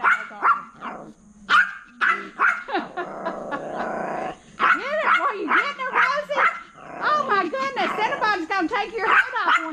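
Dog barking, growling and yipping in repeated loud close bursts, with a person talking over and between the barks.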